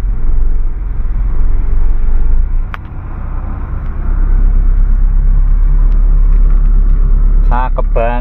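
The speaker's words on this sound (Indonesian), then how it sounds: "Memang Civic itu dari generasi Honda, suaranya itu mantep banget." A 1986 Honda Civic Wonder with the SB4 engine runs at idle, a steady low rumble with a slight dip near the middle. A voice starts talking over it at the very end.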